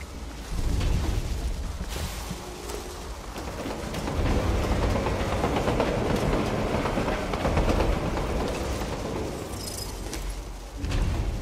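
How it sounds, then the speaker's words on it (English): In Borderlands 2, a train rumbles past with a steady, rolling roar and rhythmic clatter of wheels, loud and continuous for several seconds, with a faint click at the end. "I still don't know where these trains are."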